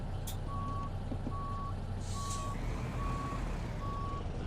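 A truck reversing in the game American Truck Simulator, its backup alarm beeping five times at an even pace over a low, steady engine drone.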